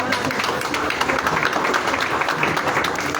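Applause from an audience at a formal ustad-shagird (master-disciple) ceremony in Lahore, a dense, steady wash of clapping that stays loud and even throughout.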